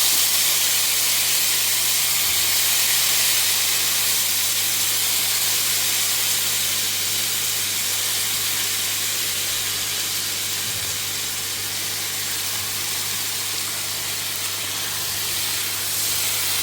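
Sesame seeds and brinjal fry in a pan with a steady, loud sizzling hiss that holds unbroken throughout, over a low constant hum.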